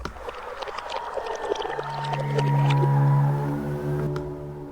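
Reversed, slowed-down water recording used as horror sound design, a dark swelling wash with a low sustained drone that rises to a peak midway and fades, layered among other eerie textures with no talking.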